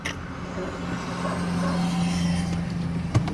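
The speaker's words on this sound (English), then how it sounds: "We got another truck coming." A truck's engine rumbles steadily as it drives past in a small Texas town, the drone swelling slightly, with a short sharp knock near the end.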